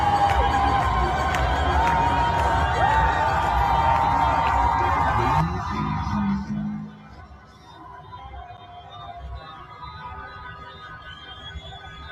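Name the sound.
crowd applauding and cheering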